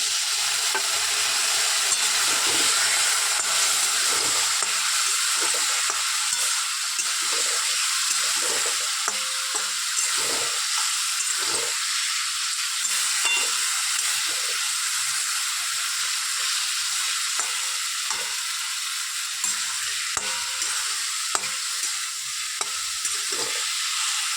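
A turmeric spice paste sautés in a pan for a fish dish, giving a steady bright sizzle broken by repeated scraping stirs and soft spatula knocks, close and continuous with no voices.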